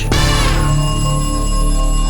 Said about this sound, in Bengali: আবার ফোন।